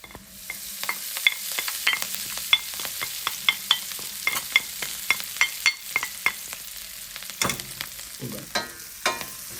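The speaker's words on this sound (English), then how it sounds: "now we're gonna add some garlic and parsley to the pot." Garlic and parsley sizzle in a hot pot while being stirred, a steady close frying hiss broken by rhythmic scraping taps of the spoon, with no talking.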